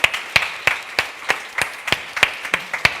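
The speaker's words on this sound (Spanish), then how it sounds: "nosotros, los hispanohablantes de nacimiento que estamos aquí presentes, nos sentimos absolutamente agradecidos y los aplaudimos." Sparse applause at a literary gathering, a few hands clapping slowly and distinctly at regular intervals, close and moderately quiet.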